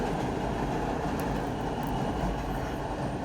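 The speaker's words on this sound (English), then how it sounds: "Newcomers, yeah, I do live near the train." Steady rumble of a nearby passing train, with continuous rolling rail noise and faint clacking throughout.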